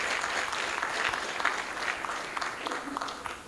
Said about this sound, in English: why can't we clap our hands to our sons and